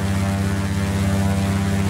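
Steady drone of twin propeller airplane engines in a flight simulator, a continuous loud hum with no talking.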